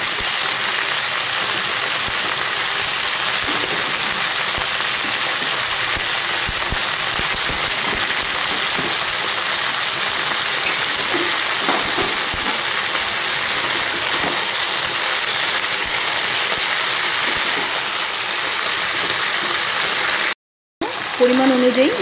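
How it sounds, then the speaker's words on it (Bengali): Beans, eggplant and boiled vegetables cook in a pan, giving a steady, close sizzle and hiss throughout, with a brief dropout just before the end. "এদিকে আমি সিদ্ধ করে রাখা সবজিগুলো দিয়ে দেব"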